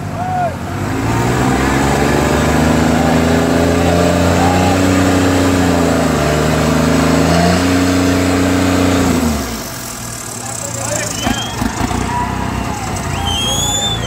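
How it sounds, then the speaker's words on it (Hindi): A New Holland 3630 TX Plus tractor pulling a harrow at a tractor harrow competition in Madina village, its engine laboring loud and steady, then dropping off and giving way to rougher, quieter sounds near the end. "न्यू हॉलैंड छत्तीस तीस वाई प्लस ट्रैक्टर है"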